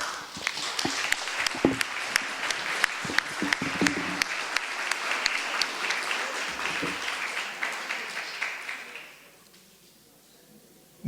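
Audience applause at a French debate on whether self-development has political reach: dense, sustained clapping from a crowd that carries on for about nine seconds before quickly dying out into near silence.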